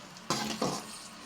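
Dried red chillies dropped into hot oil in a pan for drumstick leaf powder, giving two quick bursts of sizzle over a steady frying hiss, close and moderately loud with no talking.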